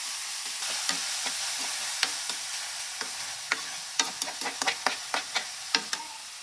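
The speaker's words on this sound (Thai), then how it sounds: "คั่วให้มันสุกนิดหน่อยนะคะ" Food being stir-fried in a pan by a young woman cooking at home: a steady background sizzle broken by a run of sharp scraping clicks from the spatula, growing busier toward the end, with no talk.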